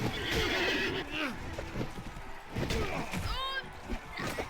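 A horse whinnies in Mount & Blade Warband, with a rising and falling neigh near the end, over clip-clopping hooves, battle noise and someone talking.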